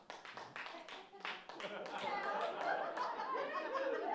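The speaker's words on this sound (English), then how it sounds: "Round of applause, single ladies." Comedy club audience clapping after a stand-up comic calls for single ladies, sparse scattered claps swelling into fuller applause with laughter and talk mixed in.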